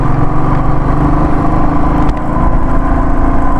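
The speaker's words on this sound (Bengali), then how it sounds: "এই তো বাইক আসছে" Loud, steady engine drone of an approaching motorcycle on a road near Murguma Dam in Purulia, rumbling continuously with no pauses.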